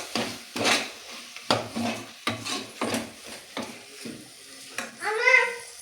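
Spatula strokes stir masala with kasuri methi through a cooking pan for tomato bath with avare kalu, giving a series of rhythmic scraping pushes, close and fairly loud, over a light background sizzle.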